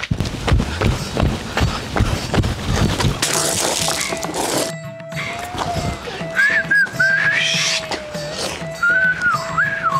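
Someone whistles long sustained notes with a few rising and falling tones, loud and close, over background noise and clatter.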